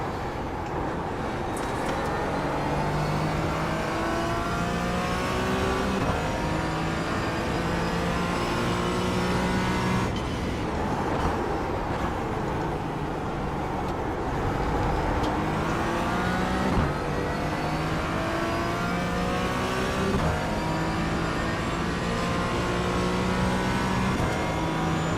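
Porsche race car engine in iRacing at Daytona, a sustained loud drone with rising and falling pitch as it revs up through the gears, steady and close throughout with no talk over it.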